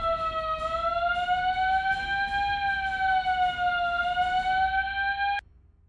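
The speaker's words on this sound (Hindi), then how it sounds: "पूरे घर में सेंट्रल अलार्म सिस्टम लगा रखा है।" A house's central alarm system sounds a loud, steady electronic siren tone that holds nearly unbroken for about five seconds, then cuts off abruptly.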